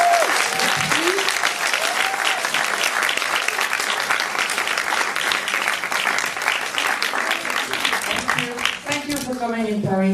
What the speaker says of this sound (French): Francesca Gregorini, que vous applaudissez fort.